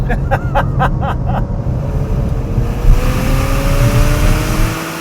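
A 2015 Porsche Macan SUV engine revs hard on a hot lap and climbs through its gears, loud and close, with a rising whine over a deep rumble.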